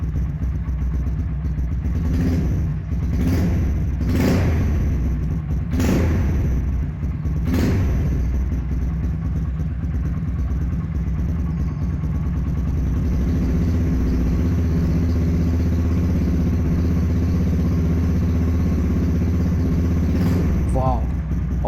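A TVS Apache RTR 180 motorcycle with an Akrapovic exhaust is blipped several times in quick succession, sharp rising revs over a low rumble, then settles back to a steady idle.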